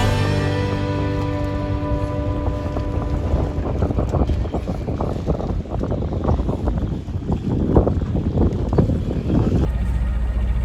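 A sailboat underway on Danish waters, heading from Vordingborg toward Lohals, with continuous rushing water and wind buffeting against the microphone, loud and steady throughout.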